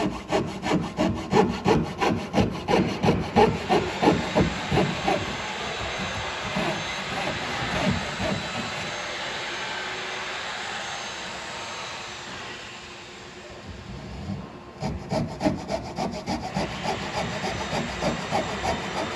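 Coping saw cutting relief cuts into wooden trim at a corner, with rapid rhythmic rasping back-and-forth strokes close up, a brief pause, then more sawing.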